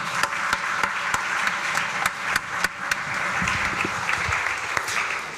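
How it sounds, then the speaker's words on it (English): An audience at a game developer conference in Helsinki applauds the winning indie teams, a sustained patter of many hands with a few sharp nearby claps standing out. "let's give them all a round of applause again"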